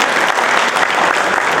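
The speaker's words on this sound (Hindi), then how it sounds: "तालियां तो होनी चाहिए" Audience at an evening event in honour of Anwar Maqsood breaks into dense, sustained applause, loud and even throughout with no pause.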